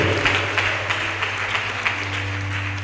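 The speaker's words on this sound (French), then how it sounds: "Si tu étais là mardi passé, applaudis, applaudis." Congregation in a church service clapping rhythmically in time, a steady beat of hand claps roughly every third of a second over a low sustained hum, loud and close.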